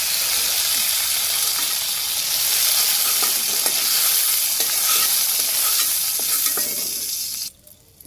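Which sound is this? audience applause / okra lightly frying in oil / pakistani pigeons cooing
okra lightly frying in oil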